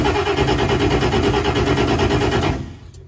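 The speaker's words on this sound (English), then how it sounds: "All right, Zach, you want to hit the key? Hit the starter." A race car's newly built engine, plumbed up and fired off, runs in a loud, rough, pulsing roar for a couple of seconds, then cuts off abruptly into quiet.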